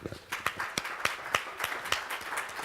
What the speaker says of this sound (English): we can applaud Mr. Commissioner Moscovici, please